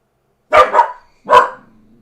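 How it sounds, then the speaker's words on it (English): A dog barks loudly and close by in a quick burst: two rapid barks, a short pause, then one more, with a faint whine trailing off at the end. No voices are heard. "3 barks. Never mind, it was 4 barks."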